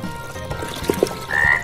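A frog gives two short, low croaks close by, followed by a brief higher tone, the whole moment quick and clear with nothing spoken over it.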